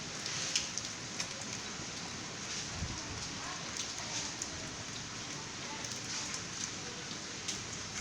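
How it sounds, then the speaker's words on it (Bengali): Rain falls steadily during Cyclone Remal in Narayanganj, a continuous soft patter on surfaces with little wind, fairly faint and unbroken throughout. "বাইরে যাওয়া নাই বৃষ্টির জন্য।"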